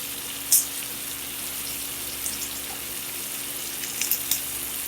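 Shrimp fry in a pan while being flipped, a quiet steady sizzle with a few brief clinks and taps as pieces are turned.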